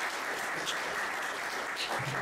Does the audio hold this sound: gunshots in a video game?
no